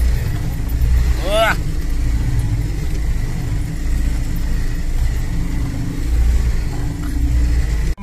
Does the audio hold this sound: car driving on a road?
yes